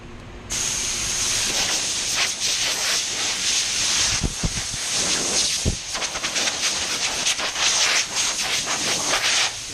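A steady, loud rushing hiss of an air blower blowing over raw plastic continuously for several seconds, with slight fluctuations and a few brief clunks partway through.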